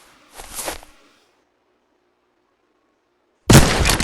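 A small bomb goes off in the video game Gorebox, a short muffled burst followed by silence and then a louder, sharper blast that lingers briefly.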